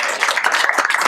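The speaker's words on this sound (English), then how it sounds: "that deserves a round of applause" Brief burst of applause for a panelist at a live panel event, dense clapping from an audience heard alone for about a second.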